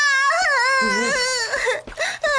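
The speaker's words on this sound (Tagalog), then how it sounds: "Sige ha, umiyak ka lang ng umiyak dyan." A lost child in a Doraemon cartoon cries loudly, a sustained wailing voice that rises and wavers for about two seconds, then breaks into short sobbing bursts.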